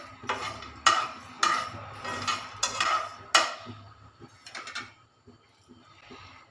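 Cardamom being dry-roasted and stirred in a pan, heard as sharp, separate metallic scrapes and clinks of a spoon against the pan, irregular and close, with quiet gaps between strokes and no talking.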